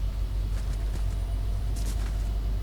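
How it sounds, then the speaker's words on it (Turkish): A deep, steady rumble of a train passing in the video game Fortnite fills the clip, loud and constant with a few brief hissing accents. "Şurada tren geçiyor."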